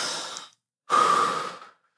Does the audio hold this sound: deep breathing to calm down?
yes